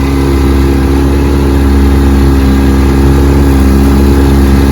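A restored 1954 Evinrude 7.5 horsepower outboard motor runs for the first time in decades on Toledo Bend Lake. It holds a loud, steady, close-up engine hum with no talking over it.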